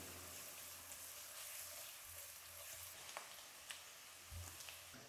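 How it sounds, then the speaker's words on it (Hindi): Finely chopped garlic and onion frying in hot oil for Gobi Manchurian; a steady, dense, quiet sizzle throughout, broken by a few faint clicks of stirring, with a low hum underneath and no voices. "अब लहसुन और प्याज को अच्छे से फ्राई कर लेंगे"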